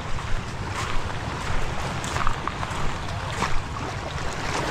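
Steady rumbling of a fishing boat motoring at sea, mixed with rushing wind buffeting the microphone and splashing water.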